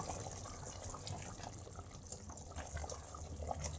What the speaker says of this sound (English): Keep adding water in between.